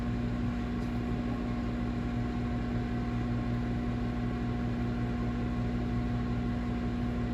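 A steady, continuous electrical hum with a low drone and fan-like whir, unchanging throughout, like a microwave oven running close by.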